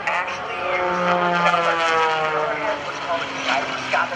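Aerobatic airplane flown by Kevin Coleman at the 2012 NAS Oceana airshow, a steady loud engine drone with shifting pitch as it tumbles nose over tail, continuous and near, under a commentator's voice.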